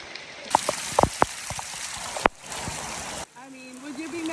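Rain falls at Waimea Valley as a steady, soft hiss broken by scattered nearby drips and pattering hits, with a faint voice toward the end.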